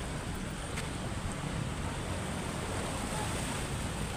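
Steady broadband wash of sea waves along a calm shoreline, continuous and moderately distant, with some wind rumble and no clear speech over it.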